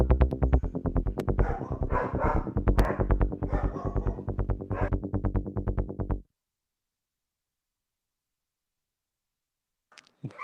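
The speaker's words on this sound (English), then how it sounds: "Dogs are going wild." Dogs barking wildly in rapid, loud, close bursts, several dogs overlapping for about six seconds before falling silent, with a brief faint sound near the end.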